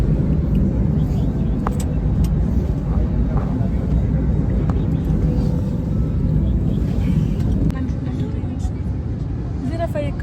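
Steady low engine rumble inside a passenger airplane cabin as the flight starts to move, loud and constant throughout, with people talking over it.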